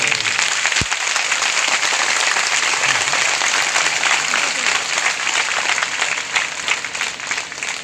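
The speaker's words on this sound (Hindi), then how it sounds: "एक बार सब एक दूसरे को उत्साहवर्धन में तालियों की गड़गड़ाहट करें।" Dense, sustained applause from a large congregation at a religious gathering, a steady roar of many hands that holds evenly throughout and tapers only slightly near the end.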